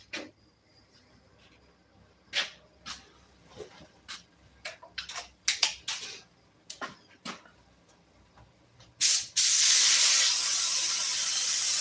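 Spray adhesive hisses from a can inside a ventilated booth in one loud, continuous, close spray lasting a couple of seconds. Scattered clicks and taps come before it.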